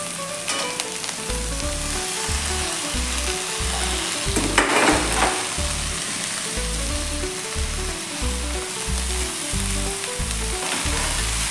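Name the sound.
amaranth (rajgira) leaves frying and stirred in pan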